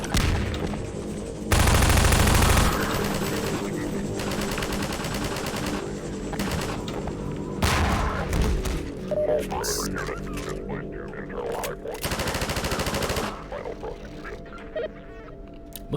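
A stationary machine gun fires in Half-Life 2 in loud, rapid bursts with pauses between them, mixed with other game noises and a voice talking.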